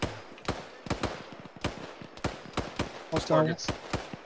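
Game gunfire in Arma 3 infantry combat cracks out in short sharp reports, a dozen or so irregular shots near and far, while players talk over the radio.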